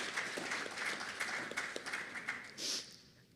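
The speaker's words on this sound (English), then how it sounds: "Let's give them another round of applause." A crowd at a project launch event in St. Kitts and Nevis claps steadily in a dense, even patter, fairly loud, with a brief louder swell near the end before it fades.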